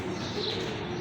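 A pigeon coos nearby in a steady, low, continuous murmur over a soft background hiss.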